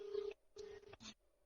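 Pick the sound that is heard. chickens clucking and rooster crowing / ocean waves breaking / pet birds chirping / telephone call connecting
telephone call connecting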